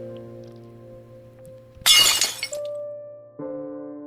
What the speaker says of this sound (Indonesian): Mangkuk makan jatuh, pecah untuk kesekian kalinya.